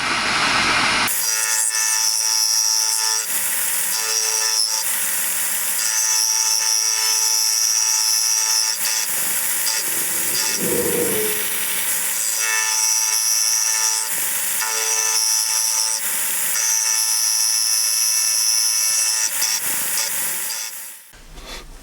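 A milling machine with a vertical head on a rotary table cuts the outside diameter of curved steel T-nuts: a loud, continuous high-pitched grinding whine with steady tonal ringing, broken by brief dips, heard alone throughout.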